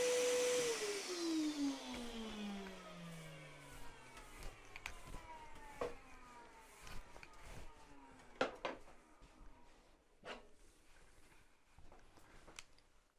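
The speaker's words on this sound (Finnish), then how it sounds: "Ja sammuttu imuri" A vacuum cleaner in a woodworking shop roars loudly, then is switched off, its whine sliding steadily down as the motor spins to a stop, while scattered knocks and clatters ring out afterward.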